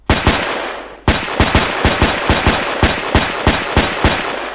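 Gun firing in the Roblox game Aegis Reborn: a rapid string of about a dozen sharp, loud shots, a brief burst, a pause of under a second, then steady evenly spaced fire, close and alone.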